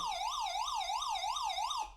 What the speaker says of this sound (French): Elle fait aussi sirène.